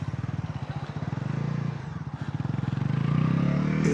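Bajaj Pulsar NS350 motorcycle being ridden, its engine pulsing in a steady throbbing rhythm that dips briefly mid-way and then rises again as the revs build, close and fairly loud with no talk.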